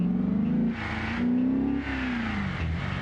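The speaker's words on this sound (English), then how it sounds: "Let me know if the engine sounds are too loud for you guys." Simulated car engine revving in BeamNG.drive, RLS career mod on a motion simulator; strong rising and falling engine tones with gear-change dips, loud and continuous across the clip with no talk.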